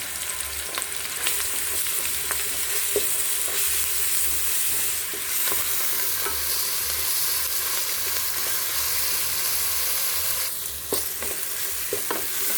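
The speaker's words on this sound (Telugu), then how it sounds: "అల్లం వెల్లుల్లిపాయని బాగా వేయించుకోవాలి" Ginger and garlic frying in a pan with green chillies, a steady close sizzle running throughout, with occasional stirring scrapes and clicks breaking through the constant hiss.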